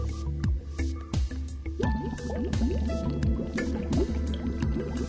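Air and water churn through opened aeration cleaning valves on an MBR membrane system. Continuous gurgling turbulence with dripping and bubbling pops, steady and fairly loud, with no voices.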